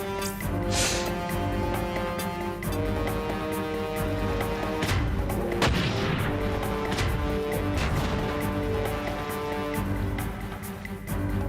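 Heavy cannon fire from mechs in the video game Front Mission 4, repeated booming impacts and crashes over steady game music and battle noise throughout.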